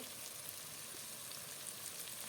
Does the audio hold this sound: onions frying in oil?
yes